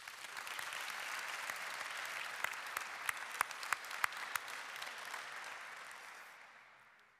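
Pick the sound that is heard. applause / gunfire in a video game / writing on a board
applause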